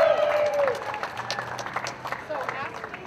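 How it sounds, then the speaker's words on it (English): A crowd at a union gathering in a civic center applauds, the clapping blending with cheers and chatter under a voice that rises briefly, moderately loud and somewhat distant. "Please give us please give Deb Rinaldi a big round of applause"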